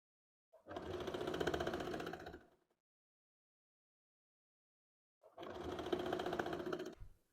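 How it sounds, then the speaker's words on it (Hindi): An electric sewing machine runs two steady bursts of stitching along the bottom hem of a kurti made from a reused silk saree, each lasting about two seconds, separated by silence, with no talking. "कुर्ती के बैक और फ्रंट पार्ट में नीचे की तरफ ये मैंने दोनों में सिलाई लगा ली है।"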